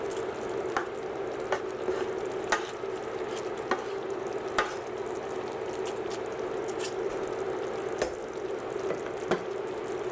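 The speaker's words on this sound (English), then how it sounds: "Give it a stir." Pork simmers in a pot, seasoned with freshly ground pepper, a soft steady bubbling hiss with faint periodic scrapes and taps of a spoon stirring, quiet and without talk.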